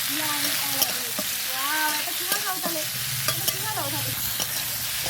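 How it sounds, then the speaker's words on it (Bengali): Amla (Indian gooseberries) sautéing in oil with salt and spices, a steady close sizzle broken by repeated scraping strokes and clinks of a spoon against the pan, with no talking. "এবারে আমলকিগুলো কষতে থাকবো"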